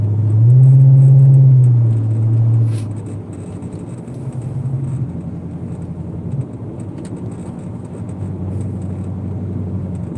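A small Corvette-like car with a backwards-mounted engine gives a loud low hum that swells briefly, then settles into a steady close rumble, with no voices.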